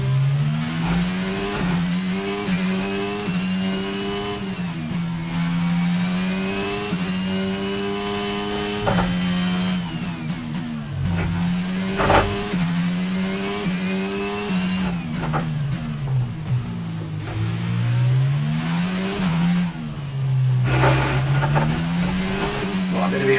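An F1 car engine in F1 22 at Monaco wails through repeated upshifts, its pitch climbing and dropping as the car accelerates out of corners, loud and close throughout, with a voice talking at times.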